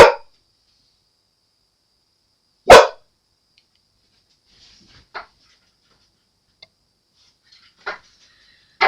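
Dog barking indoors: two sharp, loud barks a few seconds apart, then fainter whimpering and yelping cries scattered through the quiet.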